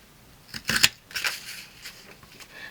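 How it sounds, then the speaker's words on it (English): A half-inch circle paper punch cuts through regular printing paper, giving a few close, crisp crunching snaps and rustles with short gaps between them. "I'm taking a 1/2 inch circle punch and then punching those"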